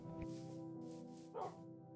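Wolves tamed as pet dogs in Minecraft give a few short yips and barks, faint and close, over quiet background music.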